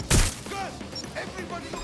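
A single sharp, loud shot rings out in Watch Dogs Legion near the beginning, followed by quieter clatter while voices talk over the rest.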